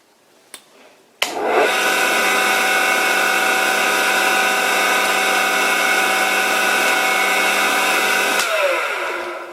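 An old wooden wood lathe switches on and runs in top gear at a bit over 2200 RPM, a loud steady whine and hum that holds evenly for several seconds before cutting off and winding down.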